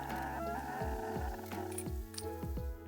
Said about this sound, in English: Angry bird noises.